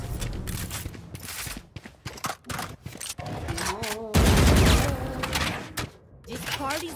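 A bomb explodes in a video game with a loud, low, booming burst midway through, set among rapid clattering gunfire-like game effects, with a person talking over it.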